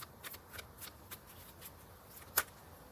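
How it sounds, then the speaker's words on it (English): A deck of tarot cards being shuffled by hand, a run of soft papery riffles and flicks close to the mic, ending with one sharper snap near the end. "I tried to shuffle the deck like 3 times right now"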